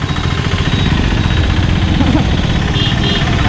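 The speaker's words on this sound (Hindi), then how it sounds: "टाटा का बेस्ट ट्रक ये चल रहा है सामने," Engine of a Tata army truck running nearby, a steady loud mechanical drone with continuous rumble throughout, no clear pauses.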